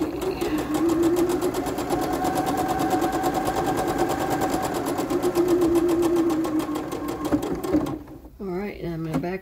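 A sewing machine stitches a child's dress, a fast steady mechanical whir with rapid needle chatter that runs for several seconds, then stops abruptly and leaves a short quiet tail.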